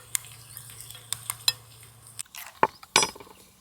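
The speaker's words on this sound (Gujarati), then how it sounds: "થોડી હિંગ, લસણ થોડું આપણે શેકાવા દઈશું." Asafoetida and garlic roast in a hot pan with a faint, steady sizzle, broken by a spoon stirring and clinking against the metal in several sharp taps up close; no voices.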